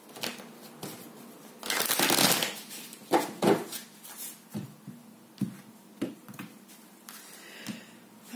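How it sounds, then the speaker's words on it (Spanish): Tarot cards are shuffled, slid and set apart by hand, giving close dry riffling bursts followed by scattered soft slaps and flicks of card stock, with no talking. "A separar las cartas que no vamos a leer"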